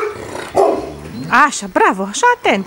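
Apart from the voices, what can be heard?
dog barking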